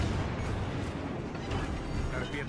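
Ship cannons firing in World of Warships Legends, a dense rumbling barrage that stays loud and continuous throughout and fills the whole stretch with booming noise.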